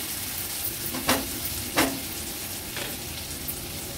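Onions with crushed ginger and garlic frying over a low flame, a continuous close sizzle with a few sharper scraping stirs cutting through, no voices.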